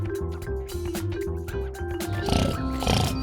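Cartoon pigs from a French telling of the three little pigs oink and grunt in quick, voiced, overlapping bursts, close and lively, with a brief scuffle of noise near the end.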